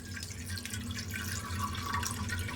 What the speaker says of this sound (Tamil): இப்போ பேன்ல வந்து இந்த 2 கவர் பாலையும் நம்ம இதுல ஊத்திக்கலாம்.